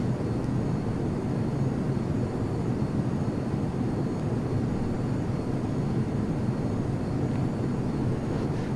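A simulated F-22 Raptor jet cruises at about 580 knots near 10,000 feet, a continuous low engine rumble and airflow drone that stays even and moderate with no one speaking.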